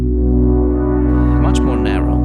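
A Groove Synthesis 3rd Wave synthesizer plays a plain sawtooth with centered pulse width, voices held narrow with no pan spread, a loud sustained buzzy tone with a faint voice or sweep surfacing near the end.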